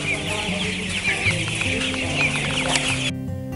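Broiler chickens on a school poultry farm, a dense flock clucking and chattering continuously at close range, with a few louder calls standing out over the steady murmur.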